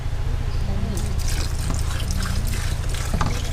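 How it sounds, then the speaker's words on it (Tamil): Cow urine poured into a panchagavya mix already holding ghee and cow dung, a continuous trickling splash heard under people talking close by. "இப்போ கோமியம் போட்டோம் கோமித்தாள் கொஞ்சம் ஊற்றிட்டு ஊற்று"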